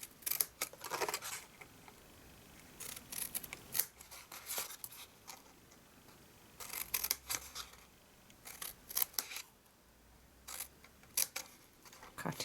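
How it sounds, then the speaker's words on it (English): Scissors snip through paper while a copper-embossed gift box is trimmed and a small wedge is cut, giving several short bursts of close, crisp cutting separated by quiet pauses. "And now we're going to trim up and cut in"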